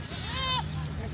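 Goat bleating at a livestock market, a single close wavering bleat rising and falling, with people talking underneath.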